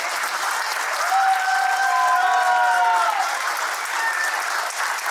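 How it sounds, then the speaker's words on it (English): Dense, sustained applause from a large crowd at an alumni meet, a steady wash of clapping that stays loud throughout, with a faint tonal whine briefly audible. "So I feel that a big round of applause is really deserved."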